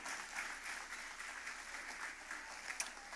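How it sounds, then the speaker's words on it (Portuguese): A church congregation at a worship service applauds, a dense, continuous patter of many hands clapping at moderate distance. "Pode aplaudir."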